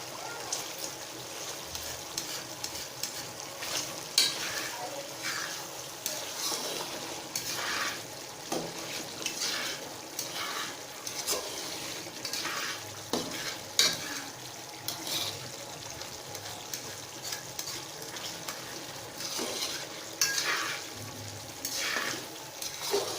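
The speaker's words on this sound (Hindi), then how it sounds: "अब हम इसकी अच्छी सी भुनाई कर लेंगे।" Chicken karahi sizzles and crackles as it is stir-fried in a pan, with a steady frying hiss and intermittent scraping stirs throughout, close and fairly faint.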